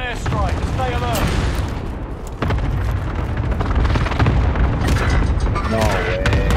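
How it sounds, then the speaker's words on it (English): Precision airstrike explosions in a first-person shooter game: repeated heavy booms and rumbling blasts mixed with bursts of gunfire, with voices talking over the chaos. "Strike inbound. Enemy precision airstrike."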